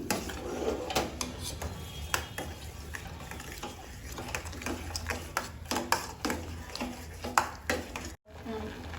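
A spoon stirs sugar into a sweet dish in a pot for an Ekadashi festival recipe, with repeated metallic scraping and clinks against the pot in a steady rhythm, fairly quiet, cut by a brief dropout near the end.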